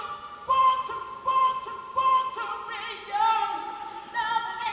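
Music sample played back on a digital recording system with its pitch lowered, a repeating dance-music phrase of bright sustained tones with pulsing accents at roughly regular intervals, moderately loud and without talk.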